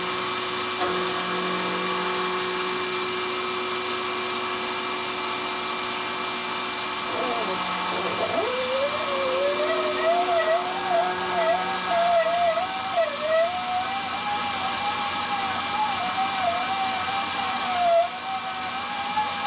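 A milling machine cuts a super thin 0.016-inch clock second hand, giving a steady whine that later rises into a wavering high tone over a constant mechanical hum.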